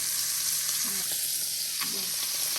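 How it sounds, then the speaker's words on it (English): Cabbage fries in a pan with a dense, even sizzle, close and steady throughout with a few faint clinks, and no talking. "So you just let it fry up."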